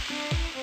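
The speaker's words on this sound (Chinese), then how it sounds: "饱满鲜嫩的袖珍菇裹粉下锅，经过油炸" Battered pleurotus mushrooms drop into hot oil for deep-frying, giving a brief close sizzle with a soft splash as they enter, alone and without speech.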